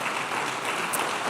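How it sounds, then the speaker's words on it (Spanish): Steady, dense applause from a church congregation, continuous and even throughout without any break. "Le damos un aplauso a los hermanos que están en radio y televisión, por favor."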